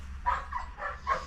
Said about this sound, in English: That's why the dogs are kind of raising the hill